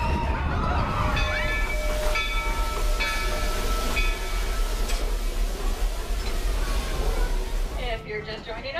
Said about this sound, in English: welcome aboard the Walt Disney World Railroad. We have been cleared to depart the station.